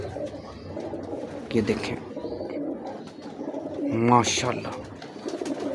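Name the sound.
breeder pigeons cooing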